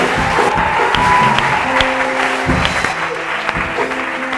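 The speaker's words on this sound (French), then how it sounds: "Acclamons le Seigneur Jésus-Christ." Congregation clapping together at a church night vigil during an evangelist's preaching, a steady dense applause that holds throughout with some tonal background sound mixed in.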